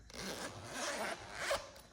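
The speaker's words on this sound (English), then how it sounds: "That zipper is quite elegant" A zipper pulled along a matte leather trading-card binder, a close, continuous raspy run with two swelling pulls and no talking.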